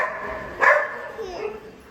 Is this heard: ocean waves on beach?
no